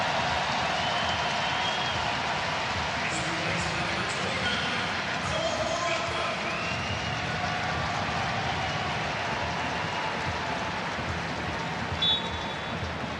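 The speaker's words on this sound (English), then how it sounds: "Listen to the applause that he gets." Stadium crowd at a friendly soccer match between Columbus Crew and Aston Villa gives steady, far-off applause for a substitute coming on, a continuous wash of clapping and crowd noise that holds for the whole stretch.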